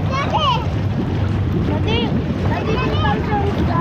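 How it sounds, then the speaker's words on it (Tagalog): Strong wind buffets the microphone outdoors at a swimming spot by the water, a steady low roar that runs through the whole clip while children and adults talk over it. "Ang lakas ng hangin."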